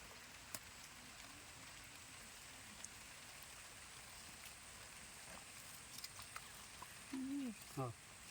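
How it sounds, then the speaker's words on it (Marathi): Light rain falls on a paddy field with a faint, soft, steady patter close by. A couple of brief high chirps come near the end. "आणि आता पाऊस आलाय. बारीक बारीक पाऊस आलाय."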